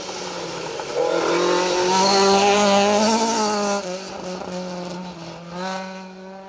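Rally car on a forest stage of the Roger Albert Clark Rally, a blue Mark One, roaring past with a rising then falling engine note, loud and close before fading as it leaves.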